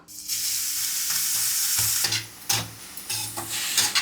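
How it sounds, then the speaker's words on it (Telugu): Carrot frying in ghee in a pan, a loud close sizzle with bursts of stirring and scraping, the hiss rising and falling with each push of the spoon. "ఈ క్యారెట్ ని నెయ్యిలో ఫ్రై చేసుకుందాం"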